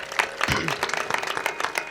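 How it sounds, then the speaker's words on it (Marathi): A crowd at a devotional kirtan and powada gathering claps for Bharat Maharaj, dense overlapping applause close and steady for a short burst. "एकदा जोरदार टाळ्या वाजवा भरत महाराजांसाठी"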